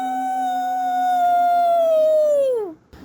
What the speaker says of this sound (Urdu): بھیڑیا کتوں کی طرح چیخنما آواز نکالتا ہے